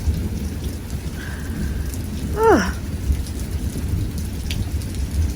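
Steady rain falls during a thunderstorm, forming a constant wash of noise with low rumbling underneath, while a bird call sweeps downward briefly midway through.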